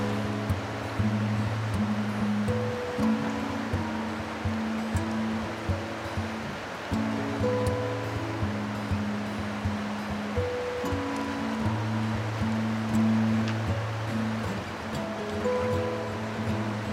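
A river on a Thunder Creek overnight hike rushes steadily with an even wash of flowing water and no talking over it.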